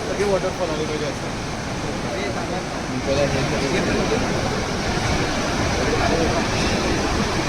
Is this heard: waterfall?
yes